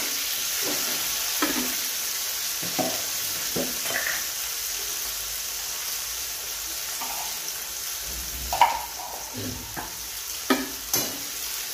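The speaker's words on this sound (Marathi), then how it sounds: "टोमॅटो व्यवस्थित मिक्स करून घ्यायचंय आणि थोडंसं मीठ टाकायचं आहे जेणेकरून टोमॅटो लवकर तळायला मदत होईल" Tomatoes with a little salt stirred and fried in a pan for a home-style ghevda vegetable dish: a constant bright sizzle punctuated by occasional scraping strokes of a spatula, close and moderately loud, with no talking.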